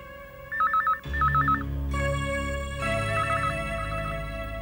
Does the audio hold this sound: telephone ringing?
yes